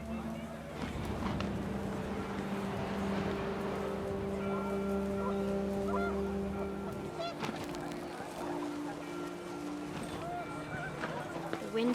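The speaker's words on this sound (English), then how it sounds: "The wind picked up, and panicked geese appeared and quickly went." Panicked geese honking in the What Remains of Edith Finch video game, several calls rising over gusting wind and a steady background hum, with a faint voice underneath.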